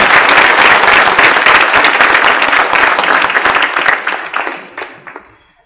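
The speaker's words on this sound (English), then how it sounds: "So I would just ask you to please give him a big round of applause." Conference audience at a World Hindu Council gathering gives a big round of applause, loud sustained clapping that gradually thins out and fades away over the last couple of seconds.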